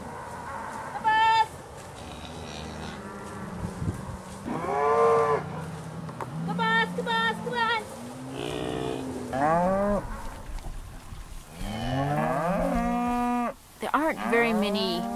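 Cattle in a lush pasture moo repeatedly, several long, drawn-out calls from different animals, some near and loud, others farther off, with quieter rustling between the calls and no talking.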